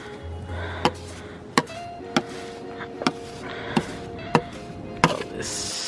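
Snow in Houston is chopped with the handle of a kitchen utensil. Seven sharp, evenly spaced thwacks land about once every two thirds of a second, loud and close, with a faint background hum.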